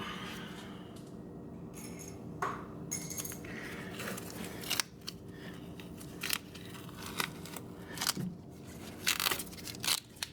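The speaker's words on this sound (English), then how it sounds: "So now at this point, I can remove the tape." Masking tape is pulled off the suspension of a Corvette C8, giving a quiet run of short ripping and crackling tears with small clicks, close and faint, with no talking.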